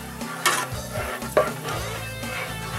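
Sliced garlic sizzling gently in olive oil in a pan over very low heat, a soft steady frying hiss broken by a couple of brief utensil scrapes and stirs, with no voices.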